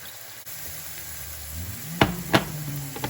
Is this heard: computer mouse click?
no